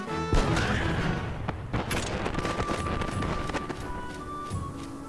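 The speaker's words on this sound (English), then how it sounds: "turning the night into a never-ending loop of these fireworks sounds" Fireworks in the Final Fantasy XI game crackle and pop in a dense, steady stream, with sharp bursts and booms layered over one another throughout, loud and continuous with no voices.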